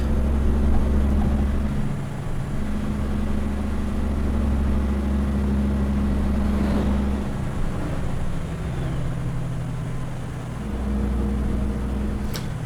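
Setra 517 HDH TopClass coach engine in Euro Truck Simulator 2, a steady loud low drone that rises and falls slightly as revs shift, running continuously without talk.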